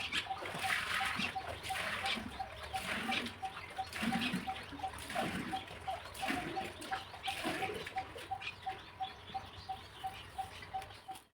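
Clothes are washed by hand in water at home, with repeated splashes and wet sloshing in an uneven rhythm, over a faint steady ticking chirp in the background.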